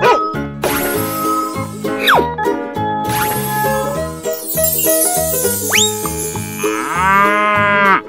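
Cow mooing in a cartoon-style children's animal sequence, a few loud, drawn-out moos set against bright music, cowbell-like jingles and tinkling effects.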